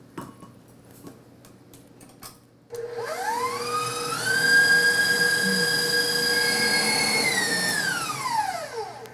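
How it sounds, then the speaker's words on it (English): An electric mixer beats a sugar mixture for a sponge cake toward soft peaks. After faint handling noises, its motor whines up in pitch, holds a loud steady drone and then winds down near the end. "Go ahead and scrape the sugar that's sprayed onto the sides down, and then beat it until I have soft peaks."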